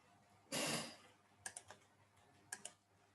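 Typing on a computer keyboard: a loud burst of keystrokes followed by a few sparse, separate key clicks, quiet and close with no voices.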